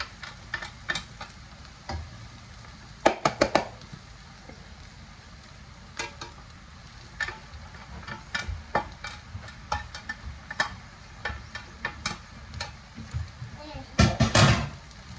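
Spelt grain frying in a pan as it is stirred: a soft, low sizzle underneath with scattered sharp scraping clicks from the utensil, busiest around the middle and the end, and quiet talk in the background at times.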